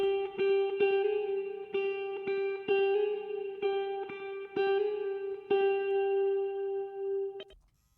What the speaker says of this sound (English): let's see what this guitar run sounds like, because I feel like I could duplicate this guitar